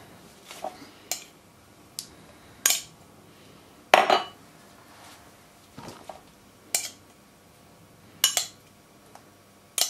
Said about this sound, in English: I'll just clean my spoon before I get it.